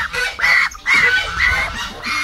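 A goose honks loudly and close by in a run of harsh, nasal calls, several bursts in quick succession with brief gaps between them.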